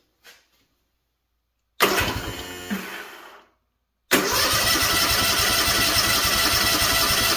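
A Kawasaki FR730V V-twin engine fitted to a Cub Cadet SX60 mower cranks hard for a couple of seconds with the choke off, stops, then is cranked again and catches, settling into a loud, steady, close-up running roar.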